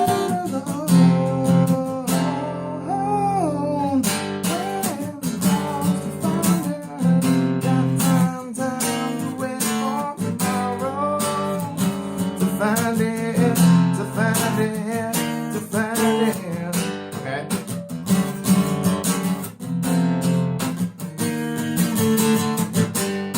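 Guitar playing the chorus of a song, a steady stretch of strummed chords with sustained ringing harmonics, continuous and fairly loud with no talking.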